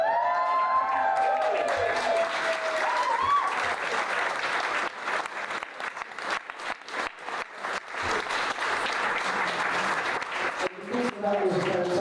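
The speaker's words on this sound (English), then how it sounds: "That was a fantastic round of applause." Wedding guests applaud and cheer after a speech, a sustained round of clapping with whoops and crowd voices, beginning under a speaker's voice and continuing steadily.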